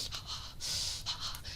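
A voice imitates heavy, ragged breathing for a ghost story, several hoarse panting breaths close to the listener with short gaps between them.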